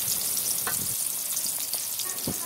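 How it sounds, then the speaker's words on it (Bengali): Onions frying in oil in a kadai for a Bengali chicken dish, a loud steady sizzle throughout with occasional stirring scrapes and spatters up close. "এখানে চিকেনের জন্য কড়াইতে তেল পেঁয়াজ দেওয়া হয়ে গেল"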